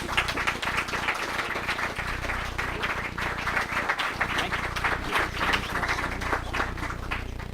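An audience at a remembrance and reconciliation conversation gives the panelists a round of applause, a dense, steady wash of clapping that holds for several seconds without a break.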